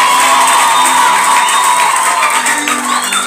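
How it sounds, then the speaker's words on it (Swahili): A church congregation loudly clapping and cheering for Jesus, dense continuous applause mixed with shouts and whoops filling the room. "Piga Yesu makofi kwa ajili ya jambo hili."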